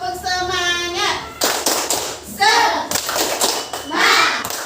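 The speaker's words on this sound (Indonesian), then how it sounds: "Tepuk semangat." A school class claps out a rhythmic cheer pattern in an Indonesian classroom, with sharp grouped hand claps mixed with children's voices and a teacher speaking.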